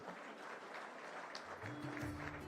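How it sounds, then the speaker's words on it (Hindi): An audience at an awards session for national teachers bursts into sustained applause, a dense, even wash of many hands clapping at moderate distance, with a faint tonal hum entering partway through. "फिर ताली बजाइए"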